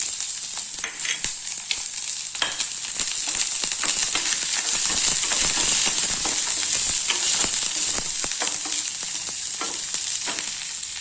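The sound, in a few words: shallots frying in oil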